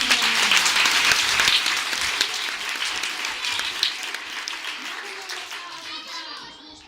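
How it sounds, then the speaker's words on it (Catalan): A burst of enthusiastic applause from a fifth-grade class after a Christmas carol, loud at first and gradually fading over several seconds. "Un aplaudiment."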